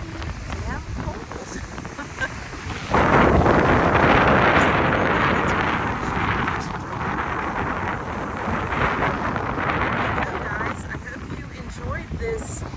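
Strong, steady wind on Springer's Point Trail, Ocracoke Island, buffets the microphone throughout, rushing louder after the first few seconds and staying rough and continuous.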